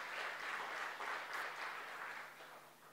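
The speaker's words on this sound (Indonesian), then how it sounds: "Tepuk tangan buat Tuhan kita" A church audience at a sermon claps for God in a steady, dense wave of applause that continues throughout and fades a little at the close.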